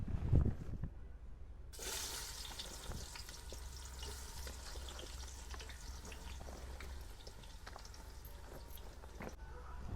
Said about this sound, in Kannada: ಈಗ ನೋಡ್ರಿ ನಾವು ಉಳ್ಳಾಗಡ್ಡಿನ ಫ್ರೈ ಮಾಡಕ್ಕೆ ಇಟ್ಟಿವಲ್ಲ